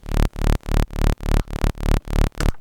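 Synth bass with an LFO modulating its level in quarter-note triplets, chopping a sustained tone into about eight even, loud pulses separated by short gaps.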